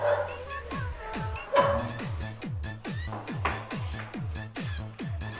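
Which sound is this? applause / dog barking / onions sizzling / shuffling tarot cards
dog barking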